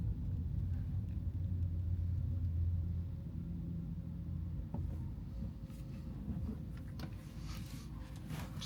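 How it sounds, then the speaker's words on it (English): A bus in the adjacent lane rumbles beside a Hyundai Ioniq 5 N during a drive through Düsseldorf, a heavy low engine drone swelling close by over steady road noise, then easing slightly. "you can see the noise difference when the bus is on the right next to you, and you can hear the engine roaring there"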